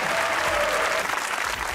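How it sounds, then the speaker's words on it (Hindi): Studio audience of a comedy talk show bursting into applause, a dense, loud, continuous wash of clapping that fills the short moment. "तालियां।"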